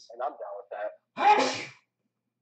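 A person in a live racing game stream sneezes once, a loud, sudden burst right after a short spoken phrase, followed by silence.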